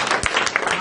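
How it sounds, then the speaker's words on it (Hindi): Short burst of dense, continuous audience applause at a public felicitation event, filling the whole brief moment at a steady, fairly loud level. "एक बार जोरदार तालियां।"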